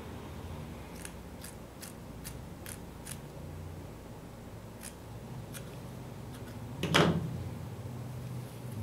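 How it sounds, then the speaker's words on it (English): Scissors trim fabric seam allowances on a sewing blouse, giving a series of quiet, crisp snips in a quick rhythm, then a pause, then a few more cuts and a louder clattering handling sound near the end. "Trim and grade the seam allowances"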